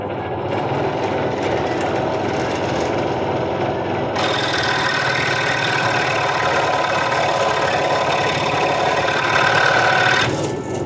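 A Ronix 5701 scroll saw cuts a 40 by 25 wooden bar with a steady, loud motor hum and a rapid blade buzz, and the pitch rises partway through as the cut continues.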